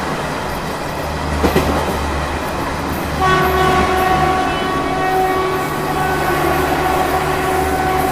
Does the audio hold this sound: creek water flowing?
no